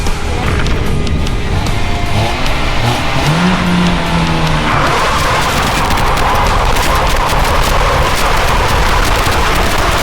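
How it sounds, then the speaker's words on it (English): A Nissan with a repaired front end doing a burnout in a garage, engine roaring loud and close while the tires squeal and skid in a sustained, rising screech. "Burnout over it."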